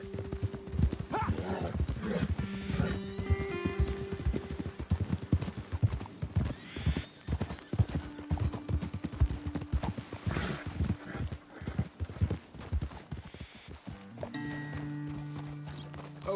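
Horse hooves clip-clop steadily in a PS4 video game as riders head up a slope toward a ledge overlooking a road, with occasional whinnies and game music layered over the continuous hoofbeats.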